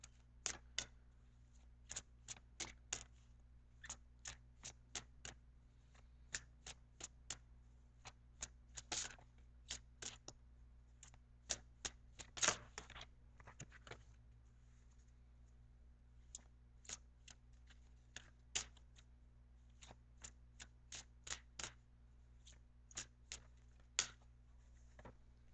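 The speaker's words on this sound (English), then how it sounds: "Okay, so now I am going to shuffle" Quiet, irregular clicks and light snaps of cards being shuffled by hand, in short bursts of flicks over a faint steady hum.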